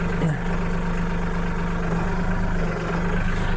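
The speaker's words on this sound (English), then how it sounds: "I'm talking while the tractor's running." Farm tractor engine running steadily at idle near the listener, a continuous low throbbing hum with no talk.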